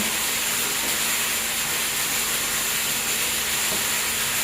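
Pork boils in a pot for lechon kawali, steadily with a continuous bubbling hiss, even and unbroken throughout, close by with no voices.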